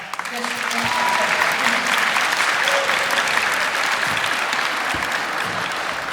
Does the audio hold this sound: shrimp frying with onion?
no